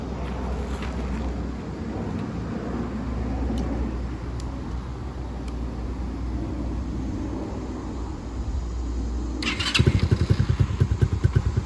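A Kymco Spade single-cylinder, four-stroke motorcycle engine starts up at close range: a steady low background rumble, then a sudden loud catch near the end that settles into a rapid, throbbing idle.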